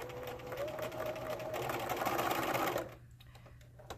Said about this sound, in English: When you get to that notch, you're going to back stitch.